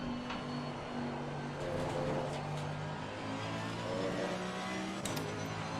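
A GT3 race car in Assetto Corsa Competizione at the Nürburgring sprint race, its engine droning steadily and rising and falling through gear changes, loud and continuous.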